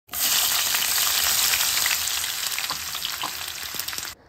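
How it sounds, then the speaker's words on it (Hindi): Cinnamon sticks, cloves and cardamom pods frying in hot oil give a loud, steady sizzle that starts abruptly, crackles with small pops and fades slightly before cutting off. "अभी मैं दो डाल चीनी स्टिक डाला है मैंने और पाँच लौंग डाला है और तीन इलायची डाला है अभी उसको थोड़ा सा फ्राई कर लेना है"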